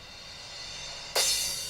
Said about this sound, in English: Reverse crash, I always put a reverse into the crash.